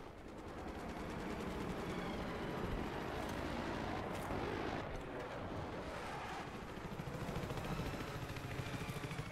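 A jet aircraft roars through a flight combat game near the Gulf of Oman, with a continuous loud engine rush and rumble mixed with distant combat noise.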